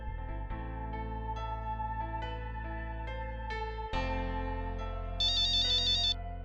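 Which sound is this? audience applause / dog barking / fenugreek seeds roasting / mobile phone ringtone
mobile phone ringtone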